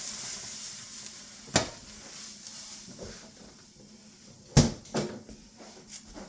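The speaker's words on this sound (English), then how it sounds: "We're just going to do a bit of a scrape up of the oil." Oil scraped around a frying pan while cooking bourbon chicken, a low steady sizzle with scattered sharp utensil scrapes and knocks against the pan, loudest in a couple of abrupt bursts.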